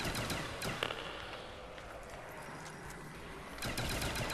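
Shotgun blasts in the Call of Duty Zombies map Der Riese, a few sharp booms at the start and again near the end over busy game noise, with a quieter stretch between.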